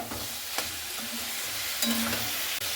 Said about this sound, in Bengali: ডালটার সঙ্গে আর সেই সয়াবিনগুলো খুব ভালো মতো করে এইভাবে আমি কষিয়ে নিচ্ছি